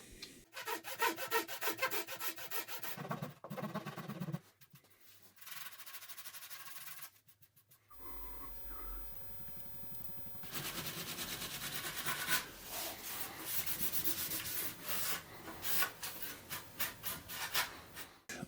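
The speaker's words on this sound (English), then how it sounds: "Then I can sand it a little bit more around here." Wood being sanded by hand for a retro-style storage table: repeated close rasping strokes in uneven bursts, with brief pauses and a few knocks between passes.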